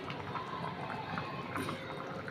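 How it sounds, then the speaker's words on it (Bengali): Fish going into a hot kadai with already-fried cauliflower and potatoes gives a steady, close sizzling hiss that runs evenly throughout, with no voices. "তো এখানে আমি মাছটা দিয়ে দিব এখন।"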